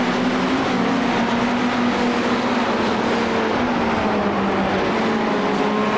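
GT3 race cars brake into a turn at Suzuka in the iRacing sim, with a loud, continuous engine drone and steady tonal whine throughout and no talk over it.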